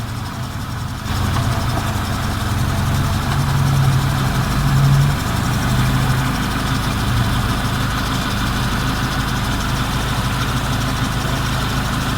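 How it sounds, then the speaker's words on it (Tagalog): A Mitsubishi 4G13 engine idles steadily during an idle speed adjustment, a low continuous hum that holds at about 800 RPM throughout, with a brief rise in the first seconds. "So yung adjustment para sa idle speed."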